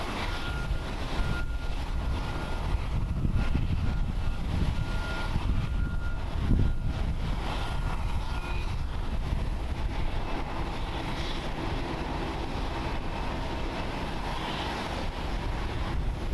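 A 25-year-old ANA Boeing 777-300 being pushed back at Haneda Airport gives a faint, distant, steady engine hum with a thin whine over light background rumble.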